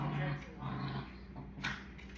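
Dogs growl low and whimper close by, a short rumbling growl followed by softer whines, with faint voices in the background.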